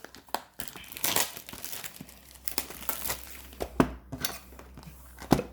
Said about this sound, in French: on va ouvrir tout ça au petit ciseau